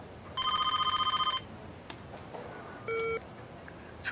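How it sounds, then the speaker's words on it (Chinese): An office telephone rings in a quiet room: one rapid electronic trilling burst of about a second, a short pause with faint background noise, then a second, briefer ring. "苏总，秦总电话在二线"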